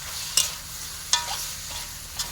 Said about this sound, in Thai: ผัดไปเรื่อยๆครับ